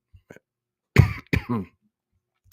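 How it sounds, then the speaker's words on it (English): A couple of harsh, close coughs in quick succession, preceded by faint small sounds and followed by silence. "Sorry for the coughing."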